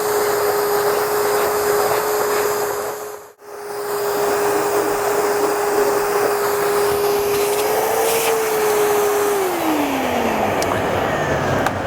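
A vacuum cleaner fitted with a micro pre-filter bag drones steadily and loudly with a constant motor whine, briefly cutting out for a moment before resuming, its pitch then rising and falling near the end.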